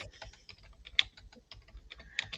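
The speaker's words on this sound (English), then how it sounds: "let's make sure that we're actually typing." Quiet, uneven typing on a computer keyboard: scattered light key clicks with a couple of sharper taps, close and soft, with no voices.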